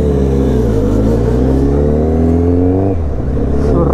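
Kawasaki Z900 motorcycle engine pulling hard up through its revs, one steady rising pull that drops briefly and climbs again, loud and close with rumbling exhaust tone.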